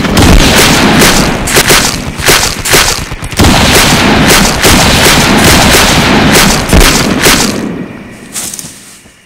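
A loud volley of gunfire blasts a house apart, heavy booms and rapid cracking shots rolling together in a sustained barrage that thins out and fades near the end.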